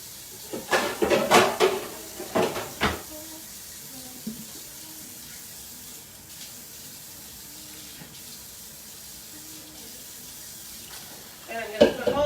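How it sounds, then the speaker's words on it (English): Liquid drained from cooked meat for Italian wedding soup splashes and trickles in a few close, clattering bursts near the start, then quiet room tone with faint handling until a brief clatter at the end. "Okay, I'm gonna drain this meat."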